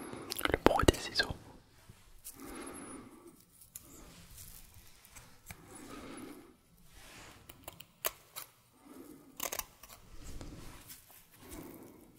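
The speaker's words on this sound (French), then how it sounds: "Le bruit des ciseaux." Quiet snipping of scissors close by, several crisp cuts in irregular bursts, with soft whispering in between.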